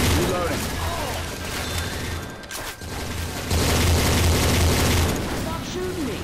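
Gunfire from teammates in Left 4 Dead 2, with loud bursts of shooting and booming impacts running through most of the stretch under steady voices talking.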